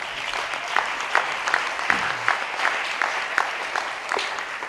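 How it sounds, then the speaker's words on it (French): A church audience claps and cheers for all mothers in a steady burst of applause with rhythmic clap accents, loud and filling the room without talk. "est-ce qu'on peut acclamer pour toutes les mamans du monde?"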